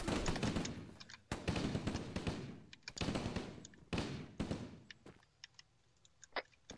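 Gunfire in a military video game, repeated sharp bursts of rapid shots in several clusters, loud and close, thinning to scattered single cracks at the end, with no talk.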